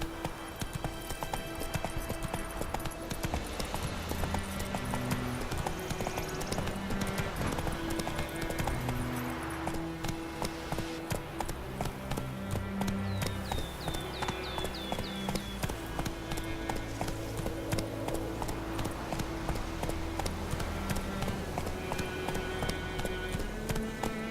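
Geralt's horse Roach gallops in The Witcher III, hooves clip-clopping in a steady rapid rhythm over a continuous bed of game music, fairly close and sustained throughout.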